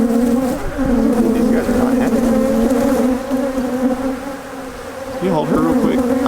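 Dense swarm of agitated honey bees hums steadily around an opened beehive during a queen change, a loud close buzz with individual bees swooping past the microphone.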